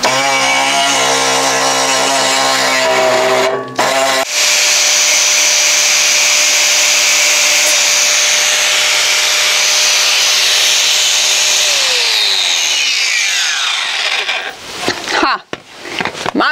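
Power sander grinding loudly and steadily on a surface, its pitch shifting as it works, then winding down into scraping and rubbing noises.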